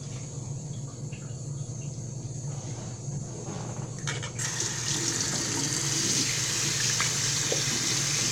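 Water runs steadily from a tap into a sink while a face is rinsed, a continuous hiss that grows louder partway through, with no talking.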